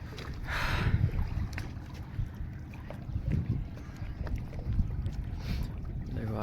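A sand-carrying boat moves across open water, with a steady low engine rumble under gusting wind noise buffeting the microphone and occasional soft water splashes.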